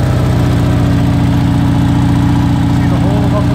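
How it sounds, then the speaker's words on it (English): A BMW 600 limousine with a bad muffler idles close by. Its loud, even, throbbing rumble carries a rough pulsing beat and stays constant throughout. "Sounds like it's running. Got a bad muffler."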